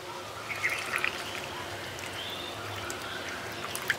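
Half a cup of water pours into a bowl of cornflour, a soft, faint trickle and light splash over a quiet, hissy background, with a few brief bright spatters and no speech.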